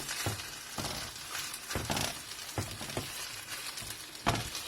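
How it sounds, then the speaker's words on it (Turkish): Rinsed, soaked rice sautéing in butter in a pot for pilaf, a soft crackling sizzle broken by repeated stirring knocks, fairly quiet and without voices. "Şimdi tereyağla kavuruyorum."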